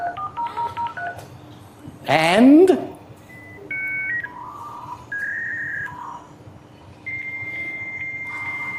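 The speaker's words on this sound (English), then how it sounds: "you had to connect your little modem up and you would take over the phone line and away you'd go" An old dial-up modem connects over a home phone line: dial tones and beeps, then a loud screeching handshake burst, followed by a series of sustained whistling tones. One brief spoken word comes early.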